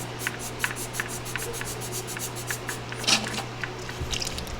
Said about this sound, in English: So it's got a little valve right here, a little hand pump to get it going.